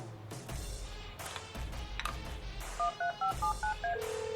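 A phone in the video game Lollipop Chainsaw plays a quick run of about eight electronic dialing tones in a rhythmic sequence, ending on a longer tone, preceded by soft clicks and game sounds.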